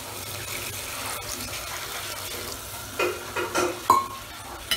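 Water poured and stirred into tomato chutney cooking in a pan, a soft continuous sizzle broken near the end by a few scraping stirs, close and with no voices.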